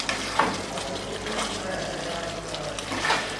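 Teasel gourd curry (kakrol kalia) being stirred in a pot after the lid comes off: soft wet scraping and bubbling with a few louder stir strokes, close and moderately quiet.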